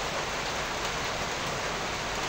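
Rain falls in the video game Animix as a steady, even hiss of drops that fills the whole moment without a break.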